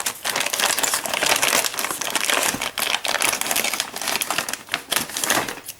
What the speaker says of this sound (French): On déballe tout de suite les pièces.